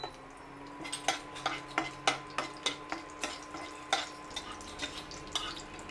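Fennel seeds and two dried red chillies sizzle in hot oil, with a steady run of sharp crackles and pops repeating roughly every half second, close and moderately loud, no talking.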